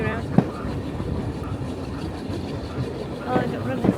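A Peak Rail heritage train carriage in Derbyshire rumbles along the track with clickety-clack wheel beats, heard from the last carriage as a close, steady roll with a few sharper rail clicks.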